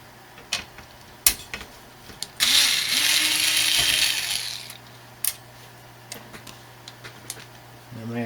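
Screws being backed out of a TiViBox Cube during a hardware upgrade: scattered sharp ticks and ratcheting clicks, plus a longer rasping burst midway, close and fairly quiet.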